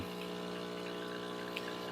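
An espresso machine's dedicated hot water outlet dispensing, a steady pumping hum with a thin stream of running water, faint and continuous, with no talk.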